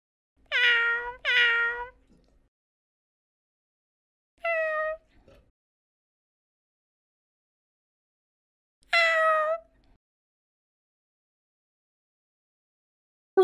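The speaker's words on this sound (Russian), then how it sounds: "Кошка домашний питомец" A domestic cat meows three separate times, clear and close: a quick double meow at the start, then single calls around four and nine seconds, with silence between them.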